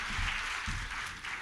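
Steady applause from an audience at a Hindi poetry gathering, many hands clapping together at an even level throughout.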